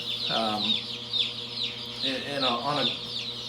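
Chickens clucking inside a poultry house holding around 600 birds, a few close, sharp clucks and calls rising over a steady low hum, with no talk.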